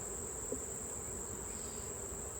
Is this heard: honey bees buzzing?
yes